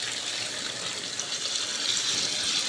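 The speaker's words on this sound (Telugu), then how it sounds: "వాటర్ వేసుకోవాలండి." Water poured into a pan of frying soya chunk masala for vegetable soya dum biryani, a steady gushing splash with continuous hissy texture lasting a few seconds, no talking.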